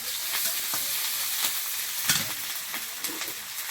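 Drumsticks and potatoes fry in oil seasoned with five-spice, ginger and green chilli, giving a steady close sizzle with soft crackles and a few stirring clinks, and no one speaks.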